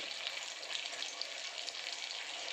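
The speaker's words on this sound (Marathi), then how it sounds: "हां, तळायला सुरुवात झालेली आहे. डीप फ्राय करून घ्यायचं आहे आपल्याला." Okra deep frying in hot oil makes a dense, steady sizzle with constant crackling bubbles, close and fairly loud, heard on its own without any voice.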